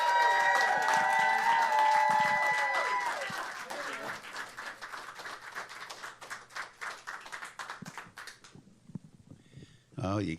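Crowd applause and cheering at an anniversary VIP party welcoming a musician, rising over a sustained musical chord, then dense clapping that thins into scattered claps before a voice speaks.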